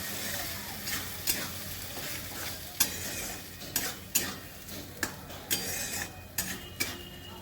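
Boiled mung dal stirred into cooked ridge gourd in a pan for jhinge moong dal ghonto, with scraping spoon strokes and light clinks at a steady irregular rhythm over a soft ongoing sizzle.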